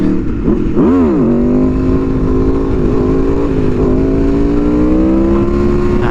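An Aprilia motorcycle engine revs hard and close, rising and falling through a throttle blip before holding a loud, steady high-pitched drone as it pulls on.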